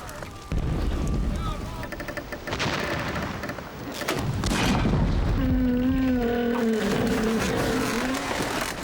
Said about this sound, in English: When the guns fired.